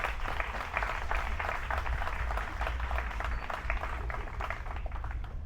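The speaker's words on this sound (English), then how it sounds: "Please give him another round of applause." An audience claps at a statue unveiling ceremony on Nevis, a sustained, even round of applause heard at moderate volume over a low background rumble.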